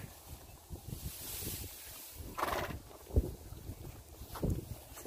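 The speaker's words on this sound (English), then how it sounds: "Horses blowing their nose on camera." Horses being fed hay outdoors snort and blow through their noses in a few short, breathy bursts at close range, mixed with light wind noise and some shuffling.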